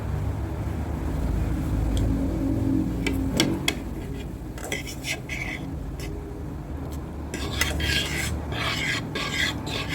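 Pancit canton noodles being stirred in a pan, a continuous scraping and rubbing with scattered sharp clinks of the utensil, under low background rumble and brief voices.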